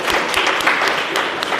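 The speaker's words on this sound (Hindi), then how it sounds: "तो इनके लिए दोबारा तालियां बजाए प्लीज़।" An audience at a confidence-building talk applauds steadily, with a dense, moderately loud patter of many hands clapping throughout.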